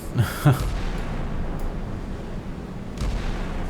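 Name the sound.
naval gunfire in the video game Sea Power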